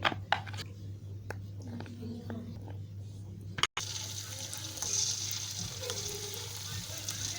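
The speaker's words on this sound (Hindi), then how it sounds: "अब हम इसमें बेसन में कोट हुई हुई मटर थोड़ी सी इसमें ऐड करेंगे और फिर इसमें डाल के फ्राई करेंगे" Gram-flour-coated peas fry in hot oil as a steady broadband sizzle; the frying grows louder after a brief cut midway, with a few sharp knocks early on and a low hum underneath.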